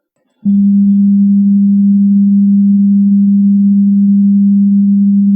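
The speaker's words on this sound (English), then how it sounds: "This is the sound of 200 Hertz frequency." A single steady 200 hertz sine tone, a little higher than a deep hum, sounds loud and unwavering for about five seconds with no other sounds.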